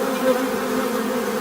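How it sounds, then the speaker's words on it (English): A bee buzzes steadily inside a radio studio, a close, continuous droning hum that holds a fairly even pitch throughout the short moment. "Make sure that there's no more bees in the studio."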